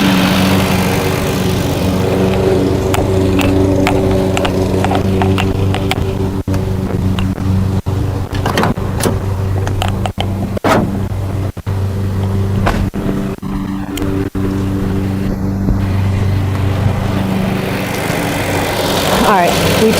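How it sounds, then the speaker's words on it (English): Engine of a 2007 Kia Sedona idling with the A/C compressor spinning, a steady loud droning hum with constant tonal layers heard close up, broken by occasional clicks and handling noises. "we do see that the compressor is running. It is spinning."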